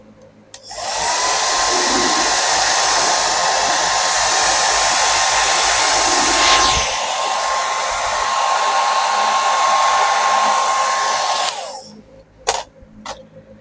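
A loud hair dryer blows steadily on long hair for about eleven seconds, a close, constant roaring whoosh with a slight pitch shift midway, then it switches off, followed by a few clicks and handling noises.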